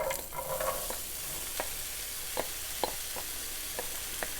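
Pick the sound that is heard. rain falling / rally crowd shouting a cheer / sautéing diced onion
sautéing diced onion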